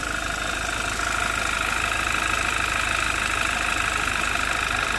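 A 2011 Audi TT Quattro 2.0T TFSI engine, recently repaired after engine damage, idles steadily with a constant mechanical drone and a faint rapid ticking from the valve train, continuous with no pauses.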